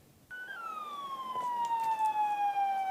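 A police car siren starts abruptly and sustains one long tone that slowly falls in pitch, fairly near and steady for about two and a half seconds, with no talking.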